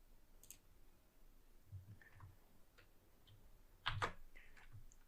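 A computer mouse clicks faintly in a quiet room: one crisp click stands out among a few other soft, scattered ticks.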